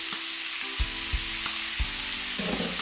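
Beef and broccoli stir-frying in a hot wok, a steady broadband sizzle with a few soft knocks of stirring, close and continuous, no voices.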